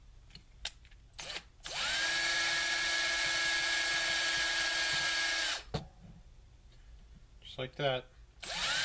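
A power drill whines at a high steady pitch for about four seconds while drilling through a guitar headstock, then stops; short clicks and a brief spoken remark come before and after.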